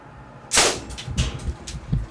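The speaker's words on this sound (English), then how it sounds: "And the cannon fires with unrelenting accuracy." A small toy cannon fires with a single sharp crack, followed by faint rustling and low thumps at close range.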